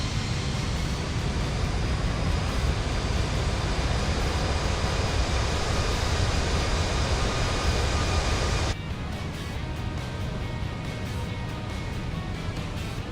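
Cockpit of a JetBlue Airbus A320 climbing out of Boston in Microsoft Flight Simulator 2020, a steady dense roar of engine and airflow that drops slightly in level partway through and then holds.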